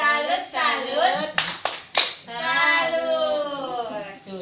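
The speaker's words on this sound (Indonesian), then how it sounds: "Kita kasih dulu tepuk salut untuk Ibu Ida" A training-session group gives a rhythmic 'tepuk salut' salute for a participant, with sung chanting voices carrying the pattern and a short burst of sharp, close claps in the middle.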